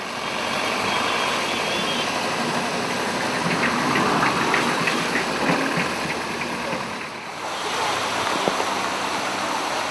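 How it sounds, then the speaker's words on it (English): Rush hour traffic in Mangalore, India, with truck engines rumbling and idling close by, a steady, dense drone of motors and road noise that dips briefly before resuming. "heading into Mangalore and the nightmare that is Indian rush hour traffic"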